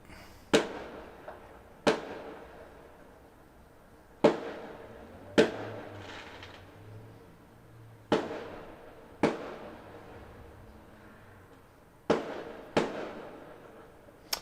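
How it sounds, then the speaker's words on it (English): Fireworks burst outdoors in sharp, loud cracks, about ten separate explosions spaced irregularly over several seconds, each followed by a brief fading rumble and crackle, with no talk. "The firework."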